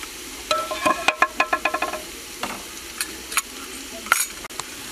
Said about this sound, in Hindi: एक बार मिक्स कर लेंगे और थोड़ी देर के लिए इसे भूनते हुए पका लेंगे।